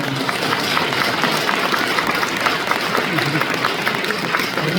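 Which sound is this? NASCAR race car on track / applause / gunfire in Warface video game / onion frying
applause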